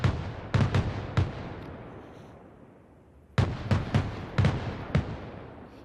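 Mortars firing a smoke barrage in Arma Reforger, a loud cluster of deep booming shots, then a decaying rumble and a second rapid salvo of several thumping launches.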